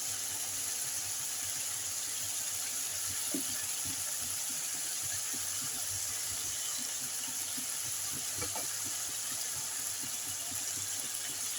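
Mustard paste hits spices frying in hot oil for a rohu fish curry, giving a steady, even sizzle with a soft bubbling hiss, close and continuous, with a few light clicks of a spoon against the pan.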